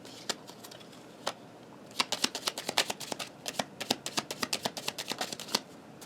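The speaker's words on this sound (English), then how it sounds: "Let's keep pulling some cards." Tarot cards shuffled by hand, a few scattered flicks giving way to a fast, dense run of crisp riffling snaps, close up with no voices.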